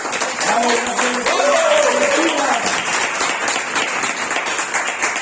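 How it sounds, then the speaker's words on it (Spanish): Audience applause at a first-aid talk, steady dense clapping filling the room for several seconds, with a voice briefly speaking over it near the start. "un aplauso para que..."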